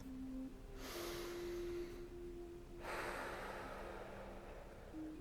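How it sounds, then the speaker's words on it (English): A slow deep breath drawn in and let out during a calm guided meditation, the soft airy rush swelling and fading twice over a steady low tone, close and quiet with no talking. "Take a deep breath"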